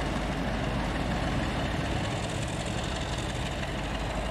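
An old Sulzer diesel locomotive engine in the game Transport Fever 2 drones in a constant, dense low rumble throughout, loud and unbroken, with no voices.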